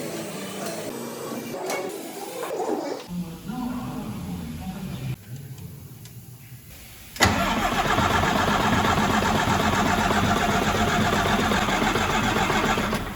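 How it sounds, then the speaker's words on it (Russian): A car engine cranks and catches, shifting from quiet rummaging and clicks to a sudden start, then settles into a steady, loud mid-pitched idle that continues to the end. "Так, производим мы запуск двигателя."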